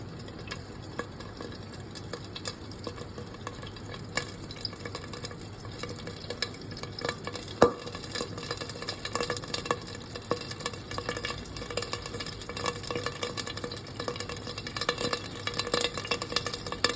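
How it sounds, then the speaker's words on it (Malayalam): Mustard seeds crackle in hot oil under a lid, giving scattered small pops and ticks over a faint, quiet sizzle, with one sharper pop midway and no talking. "കടുക് അതാണ്ട് പൊട്ടിക്കൊണ്ടിരിക്കുകയാണ്."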